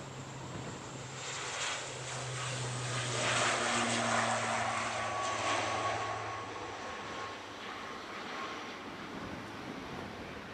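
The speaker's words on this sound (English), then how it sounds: "This one is an ATR, but it's a 42-500 this one, so slightly shorter version" An ATR 42-500 turboprop airliner departs for Inverness, its steady propeller and engine drone swelling to a broad peak midway, then easing off while still carrying. No voices.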